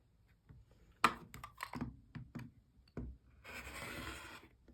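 Rotary cutter or blade trimming quilting fabric for half-rectangle triangles, a series of short scraping cuts followed by a longer rasping slide, close and fairly quiet with no talking.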